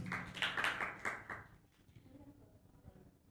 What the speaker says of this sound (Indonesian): sekali lagi beri tepuk tangan untuk kelompok 8